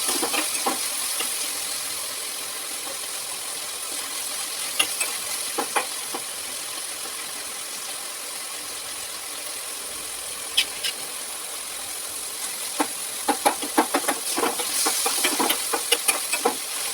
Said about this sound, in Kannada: ಟೊಮೊಟೊ ಎಣ್ಣೆಯಲ್ಲಿ ನೀಟಾಗಿ ಬೇಯಬೇಕು, ಅದು ಮೆತ್ತಗಾಗೋವರೆಗೂ ಮೆತ್ತಗಾಗಬೇಕು